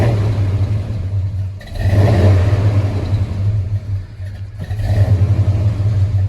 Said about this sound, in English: you can hear a little bit of that hesitation when I rev the motor